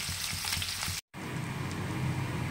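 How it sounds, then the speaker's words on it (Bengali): Amudi fish fries in hot oil, giving a soft, constant crackling sizzle that cuts out for a brief instant before resuming, quiet and close. "মাছটা এবারে ভেজে নিচ্ছি।"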